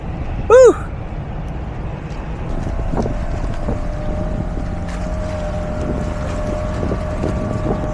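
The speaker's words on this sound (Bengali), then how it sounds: "আমরা ফাইনালি রওনা দিয়েছি বোটে করে ডিপ সিতে ফিশিংয়ের জন্যে" A boat motors out to sea for deep-sea fishing off Bali after the rain, its engine a steady, close drone under constant wind buffeting, with a brief rising whistle near the start.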